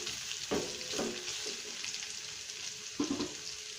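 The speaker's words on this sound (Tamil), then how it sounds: "பச்சை மிளகாயோட பச்சை வாசனை போகிற வரைக்கும் ஒரு நிமிஷம் வதக்கினாலே கரெக்டாக இருக்கும்" Green chilies sautéing in a pan for a moong dal and beans kootu, a steady close sizzle with a few sharp stirring scrapes near the half-second, one-second and three-second marks, with no talking.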